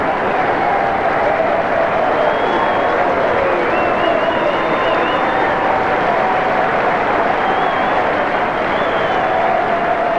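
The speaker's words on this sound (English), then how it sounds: "The fans saved a special cheer for the Don" A large cricket crowd at the Sydney Cricket Ground roars and cheers for Don Bradman in 1988, a steady dense wall of massed voices and applause that holds unbroken from start to finish.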